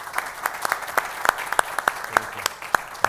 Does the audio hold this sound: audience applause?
yes